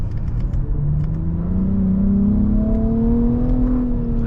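Steady engine drone inside a 2022 Nissan Rogue with a three-cylinder engine, a synthetic engine tone from the speakers rising in pitch as revs climb on paddle-shift downshifts, continuous and fairly loud.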